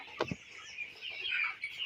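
A crowd of 24-day-old broiler chicks cheeping and clucking close by, with constant high chirps and a couple of louder clucks near the start.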